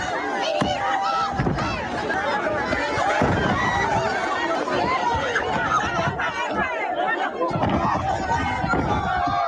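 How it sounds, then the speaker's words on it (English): A big, dense crowd at a WWE NXT wrestling event roars and chatters continuously, a loud hubbub of many voices with occasional sharper thuds rising through the noise. "Dude, they got a big crowd."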